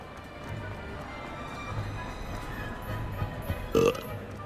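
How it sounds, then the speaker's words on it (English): A character burps once in the video game Hogwarts Legacy, a short loud belch near the end over ambient game sound and faint footsteps, following quiet stretches of background noise. "Why do you keep burping?"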